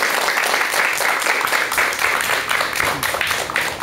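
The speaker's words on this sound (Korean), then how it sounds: "여러분 박사님께 큰 박수 한번 좀 부탁드리겠습니다." A studio audience at a Buddhist lecture talk show applauds, a dense, steady wash of clapping from many hands lasting several seconds, heard alone and fairly loud.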